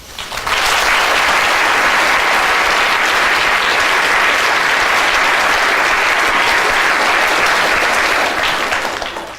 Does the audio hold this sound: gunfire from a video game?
no